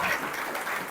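Audience clapping at a school gathering, a brief burst of many hands applauding at moderate distance, lasting under a second.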